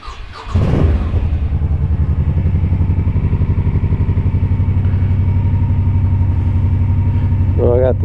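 A 2001 Honda Shadow Sabre 1100 motorcycle engine starts from cold with the choke full on, then settles into a loud, steady, close idle with a rhythmic low throb.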